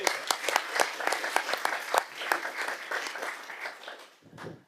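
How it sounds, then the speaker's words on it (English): An audience at a board of education meeting gives a short round of applause, brisk, fairly close clapping that gradually thins out and ends with a brief voice. "Let's give my boy Jacob a round of applause."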